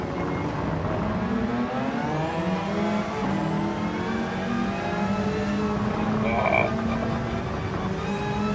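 A McLaren race car engine in Gran Turismo 7 drones loudly and continuously, its pitch climbing steadily and then dropping sharply twice as the gears shift. The engine is heard on its own, with no talking over it.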